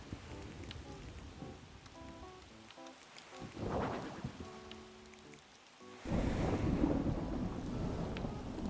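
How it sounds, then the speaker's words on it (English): Thunder rumbles through a stormy night in Animal Crossing while steady rain patters, with game chimes sounding before a louder rolling thunder surge that carries on to the end. "Oh, dark and stormy night."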